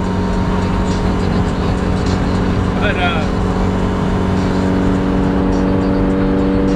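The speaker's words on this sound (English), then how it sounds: "this car is so freaking loud" A loud car engine drones steadily throughout with strong low hum and harmonics, close and continuous, while a person speaks briefly over it.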